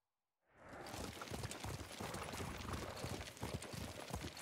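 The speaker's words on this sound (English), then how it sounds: "What a good horse." Horse hooves clip-clopping in Ghost of Tsushima, starting after a brief silence, then a steady, fast, loud stream of hoofbeats on the ground with continuous movement noise, no talking.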